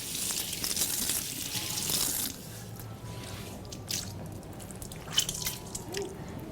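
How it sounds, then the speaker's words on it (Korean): An octopus is rinsed in water with a little flour, making soft dripping, splashing and squishing sounds close up, louder at first and then quieter with scattered wet drips. "낙지는 약간 냉동이나 그런 신선한 것이 아닐 때는 밀가루 약간 넣고 씻는데"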